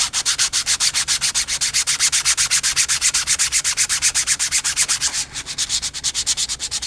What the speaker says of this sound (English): And here we go, so we just start sanding.